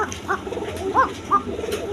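An Arabian koka pigeon gives a few soft, low cooing calls close by against a faint background hum, with no one speaking.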